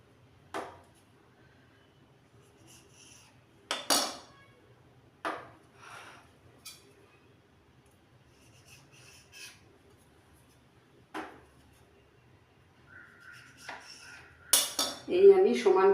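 A knife trims the edges of rolled dough for chicken patties, giving scattered sharp clicks and taps against the board with quiet gaps between, ending in a louder clatter of utensils.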